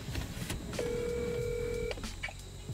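A telephone call is dialed, with a single sustained tone sounding between short clicks against a quiet indoor background.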